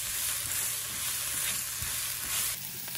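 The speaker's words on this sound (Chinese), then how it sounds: "炒锅中倒入一大勺油， 下入几个姜片， 将虾头虾壳倒入锅中" Shrimp heads and shells sizzle hard in a wok of hot oil with a few slices of ginger, a dense, steady frying hiss heard up close without any voices.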